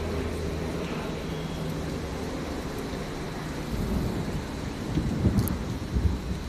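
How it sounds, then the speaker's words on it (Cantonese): Heavy rain falls in a continuous close hiss while deep thunder rumbles build and roll in the second half, swelling louder toward the end. "雨聲包圍住你，就好似全世界都靜咗落嚟咁"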